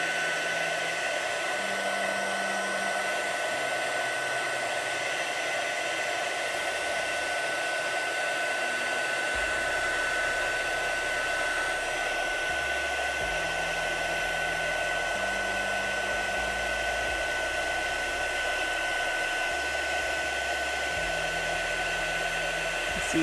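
A heat tool used for card making blows steadily and loudly throughout, a continuous whooshing roar like a hair dryer with low hum shifts underneath and no talking.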